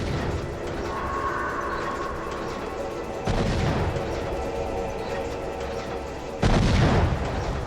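Heavy, booming gunfire in the 2000 PS1 game Blade comes in loud bursts, with two sharp jumps in intensity over a rumbling continuous background.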